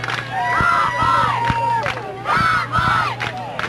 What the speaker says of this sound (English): And a Mansfield crowd has been awakened